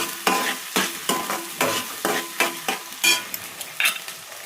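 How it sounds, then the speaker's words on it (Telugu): Chopped ginger and garlic fry in a hot pan while a spoon stirs them in a steady rhythm of sharp scraping strokes, about two per second, over a light sizzle, with no voices. "కొంచెం అల్లం ఎల్లిగడ్డ కొద్దిగా వేసుకున్నా. మంచిగా వేగాలి ఇది."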